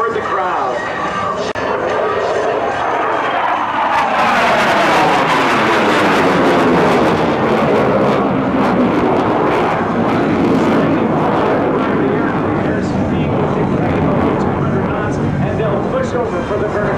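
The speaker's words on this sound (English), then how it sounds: "they're going to pull the jet into the vertical and roll the canopy toward the crowd" A U.S. Navy F/A-18F Super Hornet at an air show pulls into the vertical and rolls into a pirouette, its loud, sustained jet roar sweeping through with a pitch shift as it passes, under a public-address announcer's voice.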